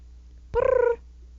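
A cat gives one short, drawn-out meow lasting about half a second, close and fairly loud, with a faint purring texture behind it and quiet surroundings before and after.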